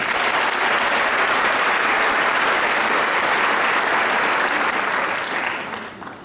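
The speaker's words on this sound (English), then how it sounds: "And let's give them a round of applause." An audience at a high school graduation ceremony applauds in a dense, steady wash of clapping that holds loud and even before tapering off at the end.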